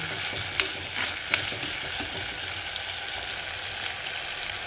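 Sautéing in sesame oil in a pan, a steady close sizzle with occasional soft scrapes and light pops from stirring, heard alone without speech.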